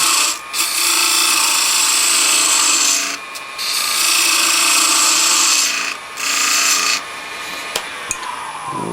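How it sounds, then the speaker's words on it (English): A detail gouge cuts a bead into the wood of a small box in four or five long, close rasping strokes, each a loud scraping hiss separated by brief pauses. "I ran that detail gouge right in and got rid of my start that I had there"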